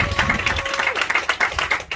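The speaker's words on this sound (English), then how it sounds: "that report deserves a rousing round of applause" A small audience claps in a brief burst of applause, individual claps audible as a loose rapid patter, with a voice faintly underneath.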